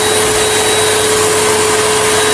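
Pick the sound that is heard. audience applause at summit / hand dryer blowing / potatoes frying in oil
hand dryer blowing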